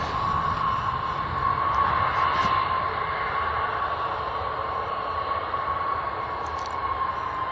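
An airliner departs Bristol Airport for Inverness in a gusty crosswind, a steady, loud, broad engine roar that holds constant throughout with no voices.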